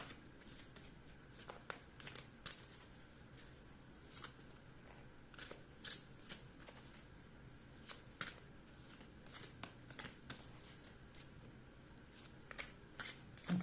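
Lenormand oracle cards are shuffled steadily by hand, a quiet continuous riffle of soft card slaps and flicks heard close up without talk.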